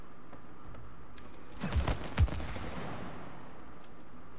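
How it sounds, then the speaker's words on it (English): Two sharp in-game gunshots at a target in the cooperative video game It Takes Two, close and fairly quiet over a steady background hum. "Can you shoot the target?"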